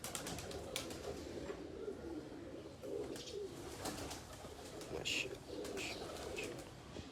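Imamdeen breed pigeons coo softly in a loft, a low murmuring mixed with occasional chirps over a steady background hiss, moderately distant and without speech.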